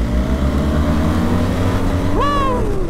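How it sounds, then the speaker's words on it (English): A BMW R1300 GS motorcycle doing a third-gear roll-on: a loud, steady engine drone climbs slowly in pitch, then a sharp, rising whine cuts in near the end as the bike pulls harder, heard close with strong wind rumble. "Let's do a third gear roll on"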